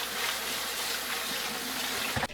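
Water pours steadily over dried radish greens (siraegi) set to soak, a close, continuous rushing splash that ends with a brief thump, no talking.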